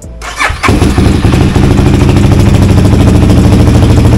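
A CF Moto 300 SR motorcycle engine cranks briefly, catches and settles into a loud, steady, close idle as it warms up.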